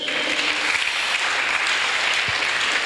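A church congregation applauds steadily and loudly throughout, a dense continuous patter of many hands with no pauses.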